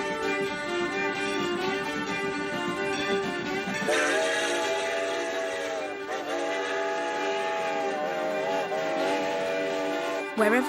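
A train rumbles past while a loud, sustained whistle sounds in several long blasts, close and prominent over the rolling noise.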